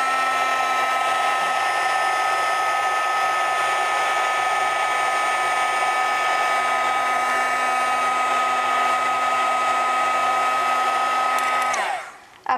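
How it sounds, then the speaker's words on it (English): A heat gun blasts steadily while heating shimmer foil in a craft technique class, a loud, constant whooshing hum with a fixed whine that runs unbroken for about twelve seconds before switching off abruptly. "And I want to heat it so it stays like that."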